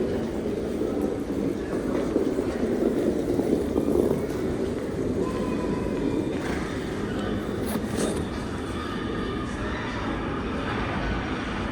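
An R train pulls into Whitehall Street–South Ferry subway station, a continuous heavy rumble and rolling wheel noise that swells then settles, with faint squeals and station echo throughout.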